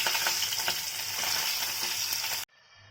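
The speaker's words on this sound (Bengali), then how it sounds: "মাছটা বেশ ভালোই ছিটকাচ্ছে" Fish fries in a pan with loud, close, continuous spattering and crackling oil that cuts off abruptly near the end.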